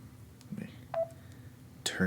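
Short electronic phone tones beep from a nearby phone, a few brief separate pings, with faint voice sounds around them.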